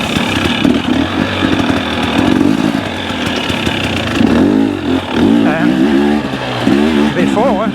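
Motocross dirt bike engine, a Yamaha YZ or KTM, revving hard as the throttle opens, rising and falling in repeated loud bursts over a steady engine drone, with someone talking over it.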